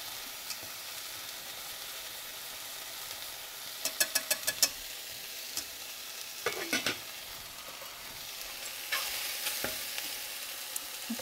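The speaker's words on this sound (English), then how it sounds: "Gonna give my grits a stir." A spoon stirring grits in a pot on a stovetop for shrimp and cheese grits, heard as a few short, close scraping bursts over a low, quiet hiss.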